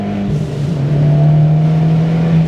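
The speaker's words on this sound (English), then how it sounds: "It's got a much more exciting exhaust note, much more mid-range torque" A Fiat Abarth 124 Spider's turbocharged engine and exhaust hum at a steady, close, loud drone, holding an even note with a slight rise near the start.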